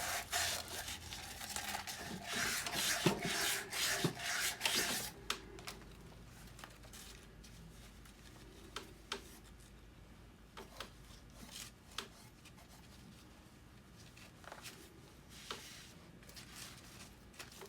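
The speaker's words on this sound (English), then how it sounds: "sand it down with some rough paper, and then polish it off with some fine sandpaper" Sandpaper rubs a seal surface on a 1988 Dodge Raider during a rebuild, with rough scraping strokes strongest early on, then fainter intermittent rubbing and small taps close by.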